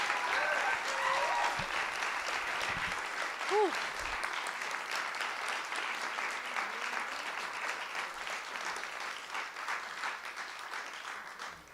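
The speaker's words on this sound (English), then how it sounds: "Let's give one more extremely loud round of applause for our readers and our writers." A festival audience of readers and writers breaks into sustained applause, a dense roar of clapping that carries steadily throughout, with a brief exclamation from a voice near the start.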